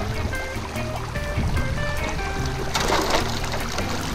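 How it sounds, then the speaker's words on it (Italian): A shallow stretch of the Elvo river flows at very low volume and gentle slope, giving a continuous close trickle and wash of water with no talking. "Siamo veramente al minimo sia di flusso d'acqua che di pendenza."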